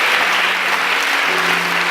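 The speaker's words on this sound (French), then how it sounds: "On va applaudir pour Jésus." A church congregation claps hands in praise for Jesus, a dense steady wash of applause filling the room, with faint sustained tones from music underneath.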